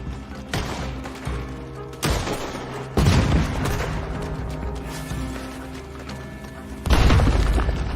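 A shootout in Red Dead Online, with heavy booming gunshots landing at irregular intervals over a dense rumbling battle backdrop, several blasts sharply louder and closer than the rest.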